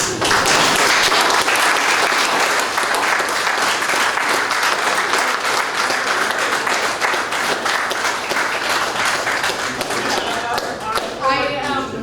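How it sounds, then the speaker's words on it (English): Sustained applause from a standing audience at a city council meeting in Kirby, Texas, loud and dense throughout, with a voice coming in near the end. "stand to your feet and give these two ladies a rounding applause"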